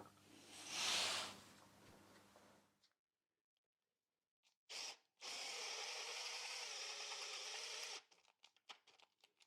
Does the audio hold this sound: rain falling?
no